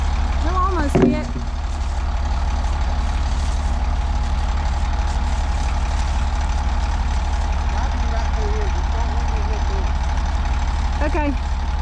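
Off-road haul truck engine idling steadily with a low, constant rumble throughout, with brief voices and squeaky chatter over it near the start and end.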